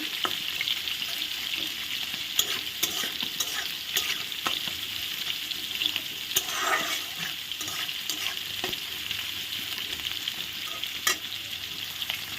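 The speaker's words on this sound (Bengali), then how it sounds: "পেঁয়াজগুলো ভেজে দেব" Onions frying in a pan for a katla fish curry, a continuous close sizzle broken by scraping stirs and soft clatters of the spatula. No one speaks.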